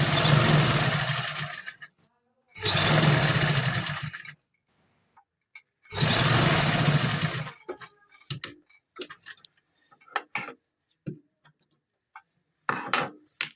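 A sewing machine stitches piping onto salwar fabric in three separate whirring runs of about two seconds each, followed by light clicks and fabric handling, with no one speaking.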